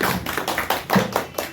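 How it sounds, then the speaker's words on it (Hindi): An audience at a Karpoori Thakur birth anniversary gathering in Khagaria claps in welcome: a short burst of sharp, fairly close hand claps in a loose, uneven rhythm. "चाहूंगा कि सभी आदमी ताली बजाकर पुनः स्वागत करें"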